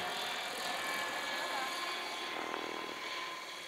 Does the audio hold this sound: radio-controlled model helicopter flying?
yes